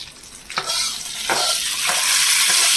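A golden-brown hot tempering is poured into a mango and drumstick sambar with the stove off, giving a loud hissing sizzle that swells and stays steady, with a few stirring strokes and no voices.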